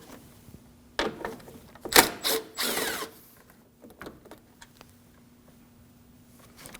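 A power tool backs out a 10mm bolt on a 2013-2015 Subaru XV Crosstrek during AC condenser replacement, with several short whirring bursts close by and quiet pauses between them.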